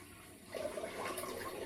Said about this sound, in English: I'm just going to rinse in cold water